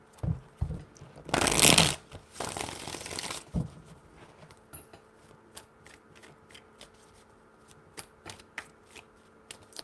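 Tarot cards shuffled by hand during a reading, a dense riffling burst followed by a second shorter run, then sparse soft card taps and clicks in a quiet room.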